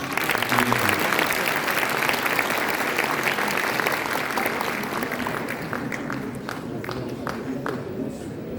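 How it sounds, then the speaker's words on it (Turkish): A large audience applauds loudly and steadily at a Turkish award ceremony honoring a UNESCO-recognized aşık folk minstrel, a dense wash of clapping that slowly thins into distinct scattered claps toward the end. "Büyük bir alkış"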